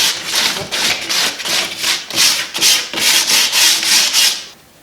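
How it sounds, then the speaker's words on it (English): Sandpaper is rubbed by hand over a painted wooden dresser in quick back-and-forth strokes, about a dozen rhythmic scratchy swipes, loud and close, with no talking. "We're just gonna lightly rub the sandpaper around those raised areas."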